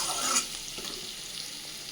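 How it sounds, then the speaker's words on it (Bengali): Capsicum frying in refined oil with salt and turmeric, a soft, steady sizzle with light stirring, fairly quiet and close. "সেই লবণ হলুদ দিয়ে আমি ক্যাপসিকামটা ভেজে নেব।"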